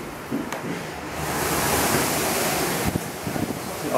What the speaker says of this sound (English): I think the wind's just starting to come from this way